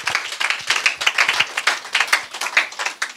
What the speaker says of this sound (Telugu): చప్పట్లు కొట్టమంటే అందరు కొట్టాలి